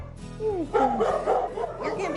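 A nervous puppy in a Houston SPCA cruelty observation room gives several high, rising yips and whimpering barks in quick succession, fairly close, over a low steady background hum.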